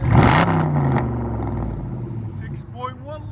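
A Dodge Charger SRT8 with a 6.1-liter V8 and Flowmaster Outlaw exhaust revs loudly up close, a deep throaty burst settling into a steady rumbling idle, with a voice talking over it.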